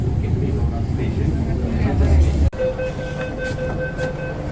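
Bangalore Metro train running between stations, a steady low rumble and hum of the carriage with a brief dropout, then a smoother ride with faint tonal whine, while people talk inside the car.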